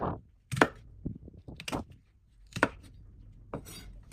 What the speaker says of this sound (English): Cut them on a diagonal into diamond-shaped pieces.